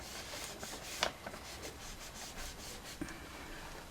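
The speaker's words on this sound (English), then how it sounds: "I'm just gonna wipe across the words so that we can make sure that we get the embossing to show up again" A damp paper towel wipes across the embossed lettering of a handmade card, making soft, close, continuous rubbing strokes with one slightly sharper scrape partway through.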